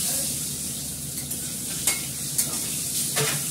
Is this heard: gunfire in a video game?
no